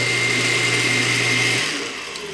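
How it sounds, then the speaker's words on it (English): A kitchen blender whirs steadily while chopping green onions for a Jamaican jerk marinade, a loud close motor hum that drops in pitch and winds down near the end. "I'm going to run the blender a little bit"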